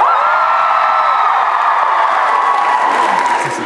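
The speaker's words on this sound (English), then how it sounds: "And let's hear the cheer for Tumblr." A live theater crowd at a London stage show cheers and whoops loudly and continuously, a dense sustained roar of voices with scattered clapping that holds steady throughout.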